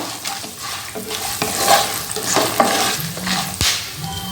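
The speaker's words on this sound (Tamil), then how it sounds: "இப்போ இது எல்லாத்தையும் சேர்த்து வறுத்துப்போம் எல்லாமே தாளித்து ரெடியாகி வரணும்" Dried red chillies and spices frying in hot oil for tempering, a loud, steady sizzle with stirring scrapes and a sharp knock near the end, no talk.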